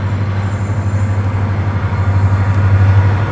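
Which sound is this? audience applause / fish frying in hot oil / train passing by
train passing by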